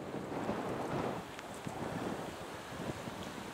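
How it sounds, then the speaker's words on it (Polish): Strong wind buffets the microphone in gusty, rumbling blasts beside a lake, with a faint watery wash behind it and no talking. "Ciekawe, czy mnie będzie słychać, bo wiatr nieźle daje."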